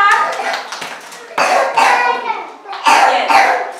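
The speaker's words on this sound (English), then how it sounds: "Clap for it, Ar." Young nursery-school children clapping in a classroom during a maths lesson, in a few short bursts mixed with children's voices and a cough.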